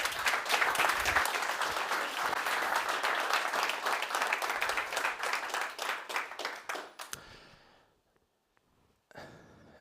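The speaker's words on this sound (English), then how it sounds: "So please give an applause to André Hoffmann from Punkt.de." Audience at a software conference talk claps in a dense, sustained round of applause that thins into scattered claps, falls silent, then picks up briefly again at the end.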